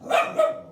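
A single dog barks once indoors at home, close and fairly loud, a short sharp bark with a quick second pulse and no other sound around it.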